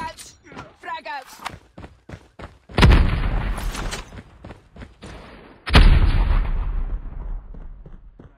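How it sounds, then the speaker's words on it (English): Two loud, close frag grenade blasts in Call of Duty Mobile, each a sudden deep boom that rumbles and fades over a couple of seconds, preceded by brief game callout voices. "Grenade out. Frag out."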